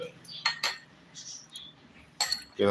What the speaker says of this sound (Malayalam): അപ്പോൾ ഇനി നമുക്കത് അതിലേക്ക് സ്പൂൺ ഇടാം കേട്ടോ സ്പൂൺ ഇടുന്നുണ്ട്